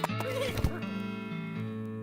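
A horse in the video game West of Loathing whinnies in a short, bright neigh with hoof clip-clops, close and clear, over a steady low background hum.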